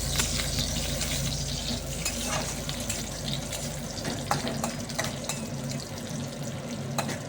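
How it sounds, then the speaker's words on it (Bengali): Cashews and raisins stir-fried in a hot pan with cinnamon, a steady close sizzle with light scraping and occasional clicks of the spatula throughout. "কাজু কিশমিশটা হালকা নাড়াচাড়া করে"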